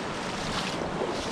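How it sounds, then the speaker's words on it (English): Water rushes steadily through a partly removed beaver dam, a close, continuous broadband wash with no pauses or voices. "Water's moving pretty good."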